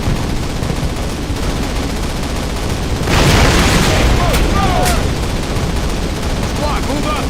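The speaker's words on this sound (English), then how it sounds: "plant your explosives and take that flak panzer out" Explosives blowing up a flak panzer in a Call of Duty game, heard as a loud burst and boom about midway through, set against a steady roar of battlefield gunfire with a brief voice.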